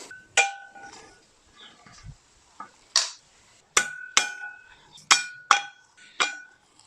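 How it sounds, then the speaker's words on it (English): Center caps being knocked out of OEM and classic Enkei wheels, giving a series of sharp, ringing metallic strikes, several in quick succession, loud and close in a workshop with no talk. "Let's knock the center caps out and get started."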